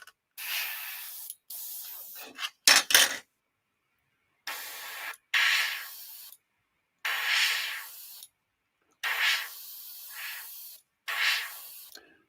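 An airbrush spraying acrylic paint on a scale model with the nozzle opened wider, delivering about seven distinct bursts of airy hiss, each lasting one to two seconds, separated by silence.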